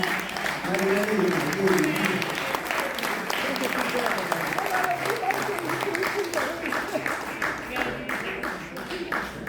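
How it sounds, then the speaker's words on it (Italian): An audience applauds a 102-year-old member at a Sardinian community Christmas gathering: sustained, full clapping from many hands in a hall, with voices talking over the applause. "Salutiamo con un applauso la nostra 102enne Marialina."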